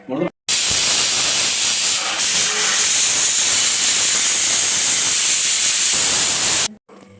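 A pressure cooker with mutton soup inside releases a loud, sustained hiss of steam, starting abruptly and blasting evenly for about six seconds before cutting off, with brief sounds before and after.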